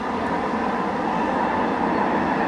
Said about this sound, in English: Oh, and there's a train, talk of the devil.